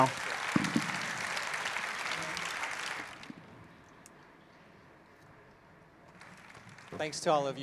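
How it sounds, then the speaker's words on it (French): Applause from an audience, steady and fairly loud for about three seconds, then fading into a quiet room with light rustling before a brief louder noise at the end. "Encore un applaudissement pour nos membres du panel."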